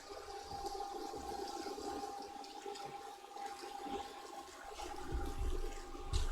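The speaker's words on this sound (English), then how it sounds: "And I'll add a little bit of water to help mix things around." Water poured from a pitcher into a mixture while cooking a Senegalese dish, a steady, faint splashing and trickling that continues alone.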